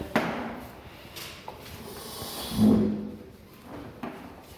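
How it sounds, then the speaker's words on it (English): A chair is pulled closer across the floor in a classroom, giving a scraping, knocking scuff with a short wooden thud at the start and another light knock near the end. "Shaista, I would request you to bring your chair closer"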